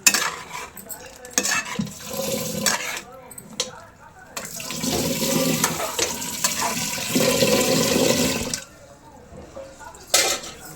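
A spoon stirs gongura prawn curry with eggs in a metal pot, a loud close scraping and sloshing mix with clinks against the pot, with brief talk in between.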